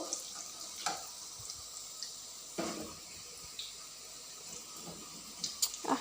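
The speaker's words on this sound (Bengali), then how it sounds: "আমার ন্যাগিসগুলো ভাজা হয়ে গেল" Chicken nuggets frying in hot oil, a soft steady sizzle with occasional crackles and pops, fairly quiet and close in a home kitchen.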